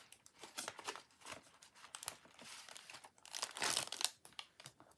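Close, quiet crinkling and rustling of a scrap of gold paper being handled during card-making, with irregular crisp bursts and a louder crumpling flurry toward the end; no talking.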